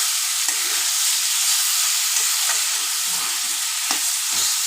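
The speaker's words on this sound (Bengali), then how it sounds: "নারকেল কোড়াটা একটু ভাজা ভাজা হয়ে গেলে" Grated coconut sizzles steadily as it fries in a pan for a pumpkin chhakka, with soft scraping strokes of stirring scattered throughout; no voices, close and continuous.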